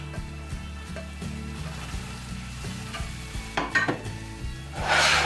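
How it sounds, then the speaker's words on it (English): Onions and other vegetables sizzle steadily in a hot pan for a paneer stir fry while a utensil scrapes and stirs in a regular rhythm, close up, growing louder and hissier toward the end with no talking. "So first I'll add my onions."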